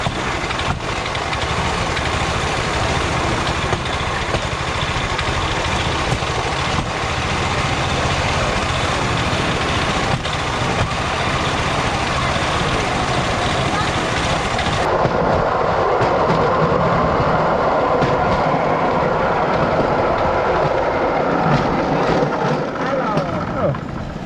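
A cargo train rumbles past close by on a railway in the Philippines, a loud, steady mechanical roar that continues throughout with a heavy low-end drone.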